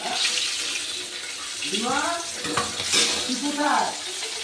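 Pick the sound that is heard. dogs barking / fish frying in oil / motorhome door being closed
fish frying in oil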